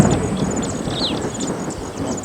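Thunder rolls as a low, loud rumble in podcast sound design, with bright chirping birds layered over the top throughout.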